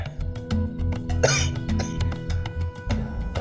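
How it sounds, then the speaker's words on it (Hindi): A person coughs in a short harsh burst partway through, set against a steady low droning musical background with rhythmic pulses and no speech. "ऐसी खांसी ठीक होने में समय लगता है"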